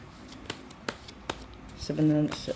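Tarot cards are shuffled in a series of sharp, crisp flicks and snaps, followed by a brief burst of speech near the end.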